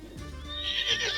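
A horse whinnies, close and fairly loud, in the Western video game Red Dead Redemption 2, with a rising, strained neigh that swells toward the end, a faint hoof thud at the close and no talking.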